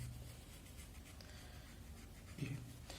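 A pen or marker scratches steadily across a surface while a heart pericardium layer diagram is drawn. The strokes are faint and close, with a slightly louder scrape near the end and no speech.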